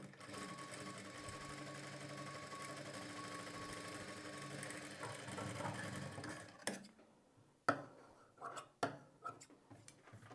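A sewing machine double-stitches the shoulder seam of a blouse, running in a steady close whir for about six seconds, then stopping into a few sharp clicks and short bursts.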